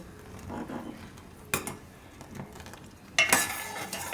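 Full-fat milk heats to a rolling boil in a pot, with a low bubbling hiss and a couple of sharp metallic clinks from a spoon against the pot.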